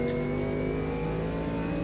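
A Camaro race car in the Automobilista 2 racing game, its engine a loud, steady droning whine held at high revs throughout, with no voices.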